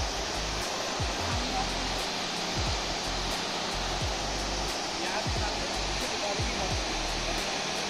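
The Athirapally waterfall roars as a dense, steady rush of falling water, loud and unbroken, with faint low thumps underneath.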